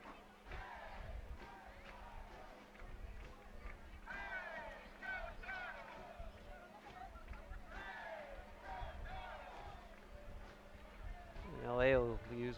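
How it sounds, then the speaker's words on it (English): A stadium crowd at an LA Galaxy II versus RGV FC Toros soccer match murmurs and cheers beneath steady commentator talk, swelling to a louder roar near the end. "Great crowd, great atmosphere."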